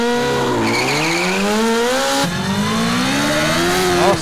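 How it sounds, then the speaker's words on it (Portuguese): A motorcycle revs hard and accelerates in GTA San Andreas, its engine pitch climbing in long sweeping rises with a brief drop and another climb, loud and close. "Ficou muito louco essa acelerada"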